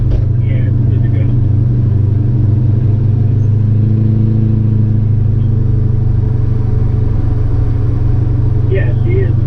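Mercedes CLK55 AMG V8 running steadily with a deep, loud, continuous rumble heard from inside or close by, while people talk intermittently over it.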